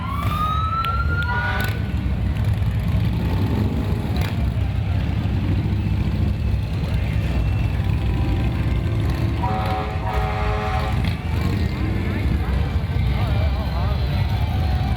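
Veterans' motorcycle squad rolling past in a Veterans Day parade in Leavenworth County, a steady, loud low engine rumble throughout, with a siren wailing briefly at the start and a crowd murmuring around it.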